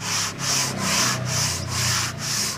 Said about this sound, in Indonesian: ini dengan amplas yang pertama-tama agak kasar untuk menghilangin baretnya sama meratakan